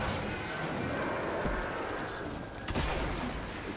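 The Thunderlord machine gun in Destiny fires in a continuous, dense burst of loud rapid shots that barely lets up for a few seconds.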